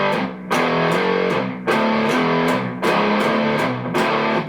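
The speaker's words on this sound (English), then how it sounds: "just playing power chords throughout that whole thing" Heavy distorted electric guitar power chords in a riff, played slowly in tight, loud stabs separated by short gaps, with no talking.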